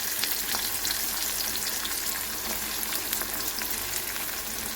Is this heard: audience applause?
no